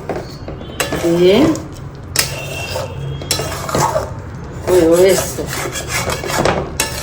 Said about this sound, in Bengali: এবার আস্তে করে একটু নাড়িয়ে দেব, কারণ সব কিছু দিয়েছি এর মধ্যে